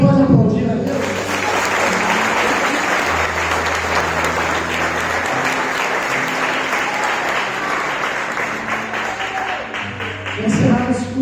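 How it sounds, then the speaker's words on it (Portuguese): A church congregation at a Sunday morning service applauds together in a long, steady round of clapping that fills the room, with organ or keyboard notes sustained underneath and a brief swell near the end. "Você pode aplaudir a Deus?"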